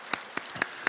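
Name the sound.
church congregation clapping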